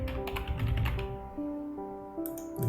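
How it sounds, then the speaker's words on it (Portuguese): Computer keyboard typing, a run of quick close key taps over steady tonal background music, with no voices. "Digitar corretamente."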